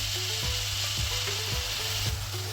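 Vegetable hakka noodles stir-fried with soy sauce in a hot pan: a steady loud sizzle with a spatula scraping and tossing roughly every half second, close up and with no talking.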